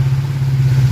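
A motorcycle engine runs steadily close by, a low, even idle hum with no breaks.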